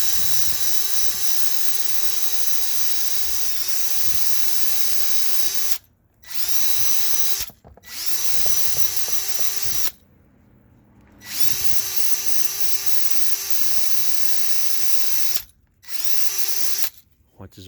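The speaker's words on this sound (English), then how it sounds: "What I'm going to do is I'm going to wire brush this thing too." Wire brush spun by a power drill cleaning a brake caliper sliding bolt, a loud steady high whine running in several long bursts separated by short pauses.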